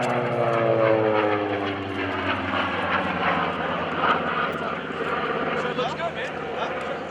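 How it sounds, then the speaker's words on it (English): The droning radial engine of a Curtiss SB2C Helldiver, a World War II propeller aircraft, runs steadily and loudly throughout, its pitch slowly sliding downward, with voices talking faintly underneath. "It's good to hear these round engines as we take you back to World War II."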